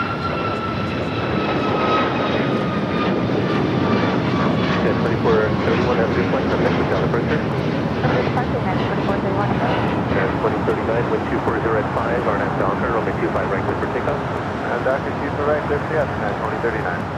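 A United Airlines Boeing 737 MAX 9 climbs away from Los Angeles airport with a loud, steady roaring engine rush and fading whine, while a person talks faintly over it.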